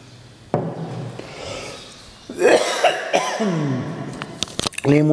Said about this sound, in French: Pardon pour la toux.